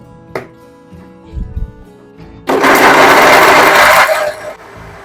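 A Bajaj mixer grinder whirs loudly and steadily for about two seconds while grinding sambar masala, after brief clicks and handling of the jar.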